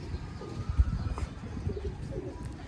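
Pigeons coo softly in a low, throaty murmur, a few rounded calls rolling close by over a quiet outdoor background.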